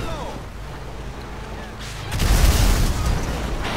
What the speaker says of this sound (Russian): Можно устраивать вот такой апокалипсис. Стрелять ракетами из машины.